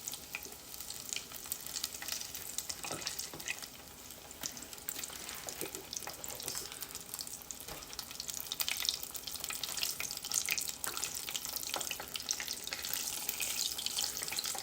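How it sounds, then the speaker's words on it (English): Mac and cheese balls coated in breadcrumbs fry in hot oil, a steady dense sizzle and crackle that holds for the whole stretch without pause. "And into the oil it goes."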